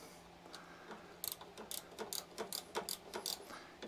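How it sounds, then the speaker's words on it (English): Small wrench tightening the 10mm nut on the governor arm of a Honda lawn mower, giving a quick run of close, crisp ratchet clicks in an uneven rhythm over faint background hum. "simply do up that nice little 10mm nut that's right in the way"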